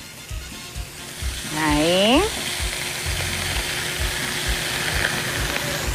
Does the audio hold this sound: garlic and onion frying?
yes